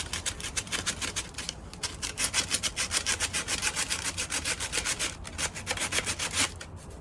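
Steady rhythmic back-and-forth rasping of sanding on a wooden rocking chair, stripping old veneer, close and continuous with brief pauses.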